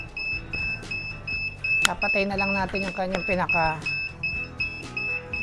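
A tested powder coating oven control panel sounds its alarm as a steady, high-pitched electronic tone that runs the whole time, while someone talks close by over it.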